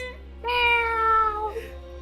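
A person vocally imitates the cartoonish cat meow from The Legend of Zelda: Wind Waker, one drawn-out nasal meow lasting about a second, close and clear.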